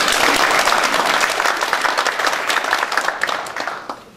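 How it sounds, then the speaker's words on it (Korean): A crowd applauds with dense, steady clapping that gradually thins and fades over a few seconds. "격려의 박수"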